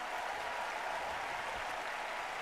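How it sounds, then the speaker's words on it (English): A video game wrestling crowd in WWE 2K25 keeps up steady, dense cheering and applause, a broad continuous wash of noise heard faintly at a distance. "this crowd can't get enough of Nikki Bella"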